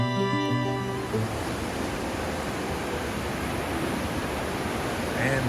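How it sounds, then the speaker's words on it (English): Loud river rapids at the O&W Bridge on the Big South Fork roar as a constant, dense rush of whitewater close by, with no voices. "we're going to try to get down here a little closer to the river. It's going to be loud."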